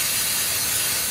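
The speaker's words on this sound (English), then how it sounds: "Grab my specific mass airflow sensor cleaner." Mass airflow sensor cleaner sprays onto the sensor of a 2000 GMC Sierra 1500 pickup, a short, loud, continuous aerosol hiss up close.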